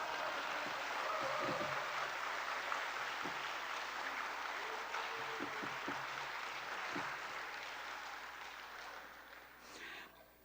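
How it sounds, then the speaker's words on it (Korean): A congregation at a Sunday church gathering breaks into applause, a fairly faint wash of clapping that lasts several seconds and fades toward the end. "박수 한번 쳐요."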